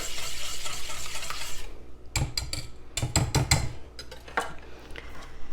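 Spoon stirs scalloped corn casserole ingredients in a bowl, first as a soft scraping then as a burst of sharp clinking and scraping strokes, close and alone without talk.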